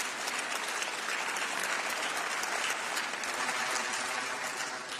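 Sustained clapping fills the European Parliament chamber, a dense, even wash of many hands applauding together at a steady level for several seconds, with no voices audible.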